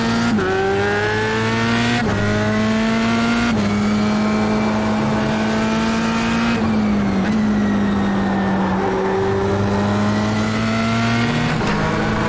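Formula 3 race car at Okayama in iRacing, its engine screaming through repeated upshifts and downshifts with rising and dropping pitch, loud and continuous from the cockpit view.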